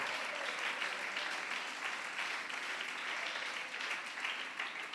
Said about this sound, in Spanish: Alabe al Señor con ese aplauso fuerte